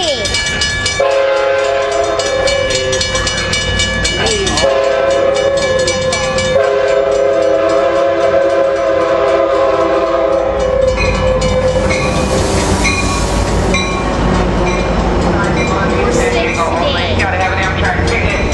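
An Amtrak passenger train at the San Juan Capistrano station sounds loudly and close, its horn blaring in long tones over rumbling engine and clattering wheels, with voices talking underneath.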